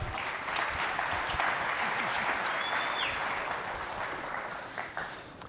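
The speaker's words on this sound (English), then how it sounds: "Big round of applause for our friends." A luncheon audience at a leadership event gives sustained applause, a broad, even roar of many hands clapping that swells, holds steady and then tapers slightly toward the end.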